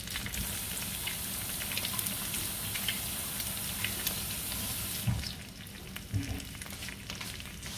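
An egg frying hard in a hot pan gives a steady, dense crackle and sizzle from start to finish, easing slightly in the last few seconds.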